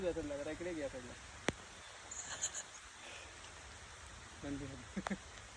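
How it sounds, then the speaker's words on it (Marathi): Steady soft rain hiss fills the background, with a few sharp drips or taps and brief bursts of talking at the start and end. "पाऊस आलाय आमच्याकडे"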